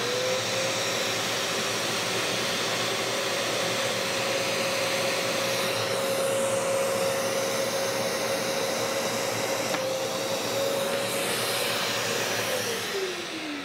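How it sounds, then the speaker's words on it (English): A vacuum cleaner drones steadily throughout, a constant whooshing roar with a faint tonal whine that dips slightly near the end. "you're just gonna hear kind of a slight drop in suction from the vacuum"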